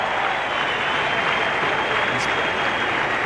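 A cricket crowd at a 1992 Pakistan versus South Africa match applauds and cheers after a superb stroke, a loud, continuous roar of clapping and voices filling the stadium.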